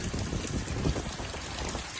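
Heavy rain falling in a village, a dense, continuous hiss of drops close by with no voices.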